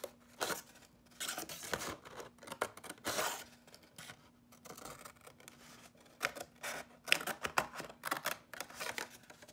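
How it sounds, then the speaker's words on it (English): Scissors cut a triangle from the edge of a paper plate toward its center, giving close, irregular crisp snips and rustling bursts of stiff paper throughout with no talking. "take one of our paper plates, and we're gonna cut a triangle starting from the edge,"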